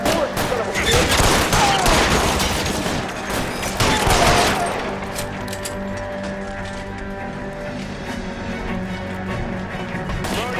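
A shootout in L.A. Noire erupts with a loud, dense burst of rapid gunfire for several seconds, then fades into lingering echoes and low rumble, with a voice briefly heard in the mix.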